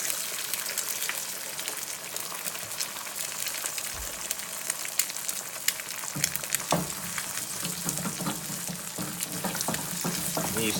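Eggs frying over easy in a hot pan: a steady, close, dense sizzle and crackle that holds throughout, with small pops and a brief stirring scrape.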